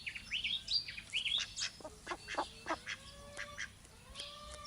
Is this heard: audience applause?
no